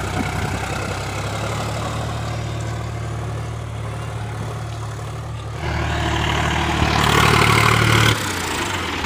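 A Sonalika DI 35 RX tractor engine drones steadily at close range under heavy load, its low rumble growing louder and straining partway through before easing off.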